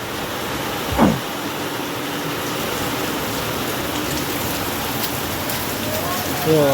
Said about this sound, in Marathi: तरी एवढा जोरात पाऊस चालूच आहे अजून